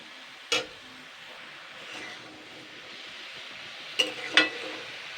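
Vegetables being stirred with egg and onion in a frying pan, with a soft low sizzle and a few distinct clanks of the spatula against the pan.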